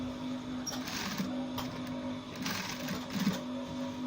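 A sewing machine runs steadily, stitching the notch collar of a button-down shirt, with a constant motor hum and small speed surges throughout, close and alone.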